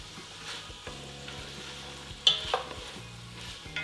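Garlic sizzling in a pot of beef juices and oil for a beef stew, a close, steady frying crackle with a few louder stirring scrapes partway through.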